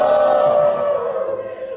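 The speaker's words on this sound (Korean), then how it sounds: "함성." A young church congregation lets out a loud, unified shout of cheering voices that holds briefly and then tapers away.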